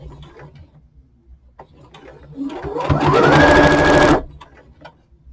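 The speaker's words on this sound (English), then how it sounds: "you're sewing something straight to a circle" A sewing machine stitches a hat crown to its band, its motor whirring up to a steady fast run for about two seconds, then stopping abruptly, with quieter handling clicks before and after.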